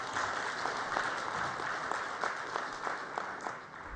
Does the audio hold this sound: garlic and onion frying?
no